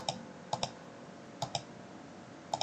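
Computer mouse clicks in a quiet room while working in Revit 2023 software: sharp, close clicks in small pairs and clusters, spaced about a second apart over a faint steady hum.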